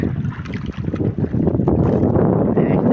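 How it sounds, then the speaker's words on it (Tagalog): Boats passing by on open water, heard as a low, rumbling wash of engine and water noise with wind buffeting the microphone, growing steadier and louder toward the end. "may mga barko oh, na dumadaan na"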